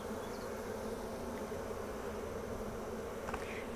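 Honeybees swarm around an opened hive during a frame check, making a dense, continuous buzzing hum that stays steady and close for several seconds, with no talking.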